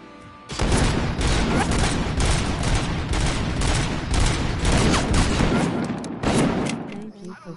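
In the video game Robocop Rogue City, a sniper and other combatants fire a loud, continuous barrage of gunshots and bursts at close range for about seven seconds.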